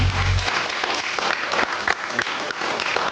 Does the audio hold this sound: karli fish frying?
no